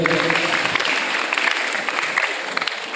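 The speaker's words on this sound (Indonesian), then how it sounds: "Tepuk tangan untuk juga dari beliau." An audience at a family gathering applauds a guest on the MC's cue. The clapping stays continuous and moderately loud, with a faint tonal hum beneath it early on.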